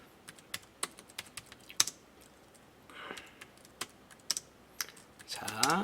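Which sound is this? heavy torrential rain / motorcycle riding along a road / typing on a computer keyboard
typing on a computer keyboard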